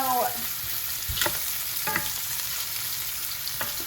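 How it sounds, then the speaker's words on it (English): Turkey sausage fries in a pan for a broccoli, rice and sausage dish, a steady close sizzle with a few sharp crackles and scraping stirs, no talking. "we're going to cook the turkey sausage for 2 to 3 minutes or until brown."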